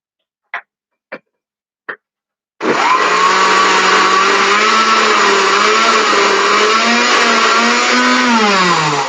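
Three short taps, then a kitchen blender starts up loud and runs steadily to the end, chopping dried beef dip from a 1969 Betty Crocker recipe, its pitch shifting slightly as the load thickens.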